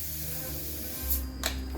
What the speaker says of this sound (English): I just want to put a bit of spray on there